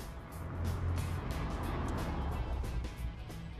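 A DeLorean with a 2.8-litre V6 engine drives past, giving a loud, broad engine and road roar that holds steady for a few seconds, heard close with no talking.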